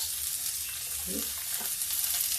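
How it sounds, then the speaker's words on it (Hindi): Chopped onion drops into a hot pan for a bean vegetable curry, setting off a quiet, steady frying hiss with a brief louder crackle as it lands. "अब इसी में डाल देते हैं प्याज"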